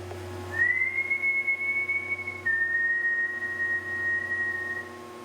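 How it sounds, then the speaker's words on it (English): Someone whistles a single long sustained tone inside the New London Ledge Light lighthouse, clear and steady, stepping down slightly in pitch partway through, over a low constant hum with no talking. "I'm going to whistle."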